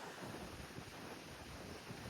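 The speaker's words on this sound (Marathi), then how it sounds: "समुद्र कसलो खवाळलो हा बघा" Rough monsoon sea at Rock Garden churns in a steady broadband roar of crashing waves and wind, faint and distant, with no voices.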